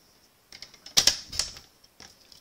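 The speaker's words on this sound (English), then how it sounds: "so I'm going to go ahead and cut off the end so that it is 5 1/4 inches also" A piece of cardstock being trimmed on a paper trimmer, a short run of close, crisp clicks and a sliding cut lasting about a second, with no talk.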